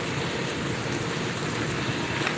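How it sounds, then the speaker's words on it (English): Heavy rain pouring down outdoors, a dense, even hiss of drops landing close to the microphone, loud and unbroken throughout with no voices. "Hold on, it's like too much rain on me."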